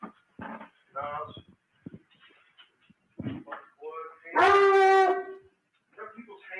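A dog yelps and whimpers in a loud, high, wavering burst partway through, with people talking in short bursts before and after it.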